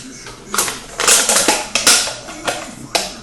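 An aluminum drink can being cut open, giving a run of sharp, close crunching and snipping bursts with brief pauses between them, with no voices.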